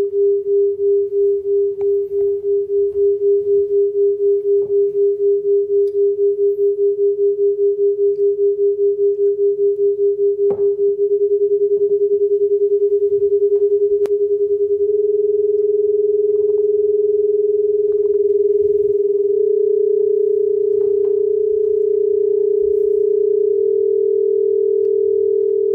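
Two pure sine tones play together, a steady 400 Hz tone paired with a second tone stepping from 410 up to 440 Hz, forming a loud, continuous hum with slow beating pulses that fade as the gap widens.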